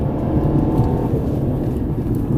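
A 2018 Mercedes C-Class engine rises in pitch as it downshifts into third gear through a sweeping turn, a loud steady low roar from inside the car with no pauses.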